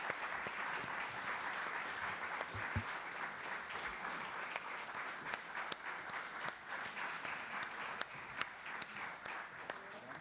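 Press conference audience applauding the arriving team of the film Adults in the Room, a moderate, fairly distant crowd clapping in a steady even wash, with occasional crisper claps.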